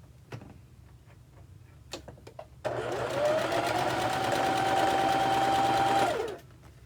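A sewing machine chain piecing quilt blocks: a few faint clicks and handling taps, then a sudden steady fast-running stitch hum that holds for about three and a half seconds before stopping, close and fairly loud.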